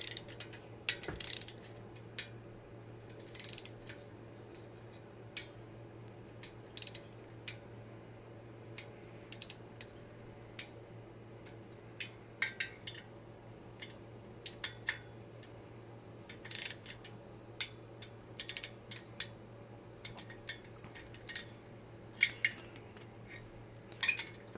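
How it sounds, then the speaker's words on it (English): A torque wrench tightens cylinder head nuts on a 1991 Polaris Trail Boss 250 ATV, giving scattered light ratcheting clicks and ticks over a constant low hum in a quiet workshop, with no talking. "Alright, we're going to torque these head nuts on."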